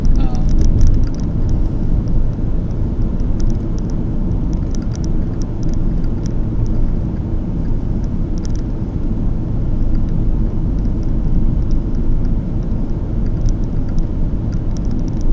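Interior of a 2013 Ford Escape SE with a 2.0L engine while driving, a steady low road and engine rumble with no talk and faint higher ticks now and then.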